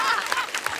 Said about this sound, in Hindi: पहले टीम के लिए जोरदार ताली।